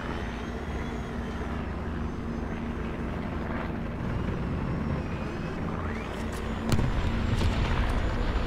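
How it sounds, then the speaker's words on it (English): Propeller warplane droning overhead in War Thunder, on the World War II Hürtgen Forest map, a steady rumbling engine under constant background noise, with a sharp crack near the end. "Hear a plane."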